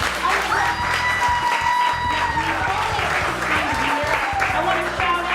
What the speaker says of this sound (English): Yes, please clap for him.